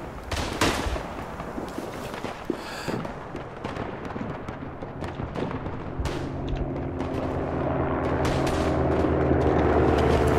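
Gunfire in the World War I shooter game Tannenberg: a dense barrage of rifle shots and distant booming explosions rolls on continuously, with a low engine-like drone building in the later seconds.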